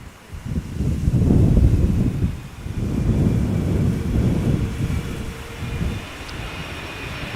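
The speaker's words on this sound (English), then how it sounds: "Wind seems to be picking up a little bit." Wind at Amsterdam Schiphol Airport, a deep rumbling roar that swells and fades in broad gusts, loud and close, with no voices.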